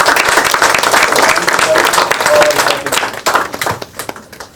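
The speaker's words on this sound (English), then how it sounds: "big round of applause for such a wonderful event" Applause rises at an online art and crafts sociopreneurship event, dense clapping that thins and fades toward the end, with a voice talking over it.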